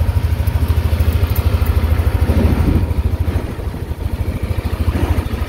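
A motorcycle engine idles close by in a steady, rapid, pulsing putter during a sound level and emission test at a registration inspection facility, with a few faint background noises and no talk.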